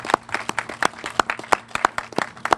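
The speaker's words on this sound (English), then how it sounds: "big applause for you guys" An audience gives the staff a round of applause, with irregular, fairly close hand claps that stay moderately loud throughout.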